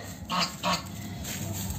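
Two loud goose honks in quick succession, close by, as geese are fed in spring, followed by quieter honking and outdoor background noise.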